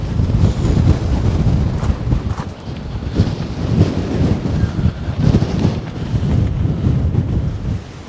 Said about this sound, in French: Le vent vient des terres.